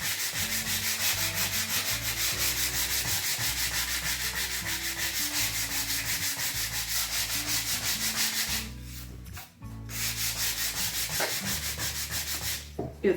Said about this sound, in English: during the sanding process